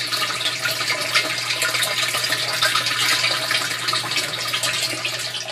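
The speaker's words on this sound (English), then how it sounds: "Starts to cavitate and suck a little air." Bell siphon in a blue-barrel aquaponics setup draining water while starting to gurgle and suck air, a continuous loud rushing, slurping flow close by, with no talking.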